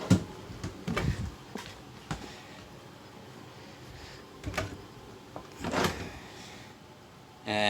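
Drawers in the kitchen of a 2016 Forest River Georgetown 364 TS RV are pulled open and pushed shut, a few soft thuds and sliding rattles, with a sharper knock near the end.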